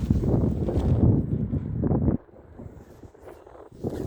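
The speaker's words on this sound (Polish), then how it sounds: "Wiatr wieje" Gusty wind blowing outdoors near a shopping mall, a loud rushing buffet over the microphone for about two seconds, then dropping to a quieter low rumble before rising again at the end.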